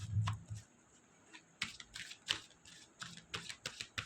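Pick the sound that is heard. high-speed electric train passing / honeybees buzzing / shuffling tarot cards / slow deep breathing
shuffling tarot cards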